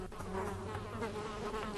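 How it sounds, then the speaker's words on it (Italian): Flies buzzing in the Granny horror video game, a dense continuous droning hum that stays steady and close throughout with no speech. "Facciamoci un giretto tra le mosche."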